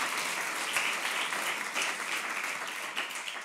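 Applause from the audience at a French competition semifinal, dense continuous clapping from many hands, loud and sustained throughout with slight swells.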